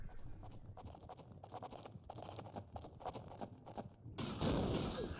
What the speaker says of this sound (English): Bloody horse.